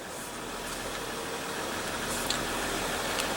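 A 2015 Jeep Grand Cherokee with the 3.0L diesel V6 idles close by, giving a steady, even rumble with a faint clatter and no change in pace over a few seconds.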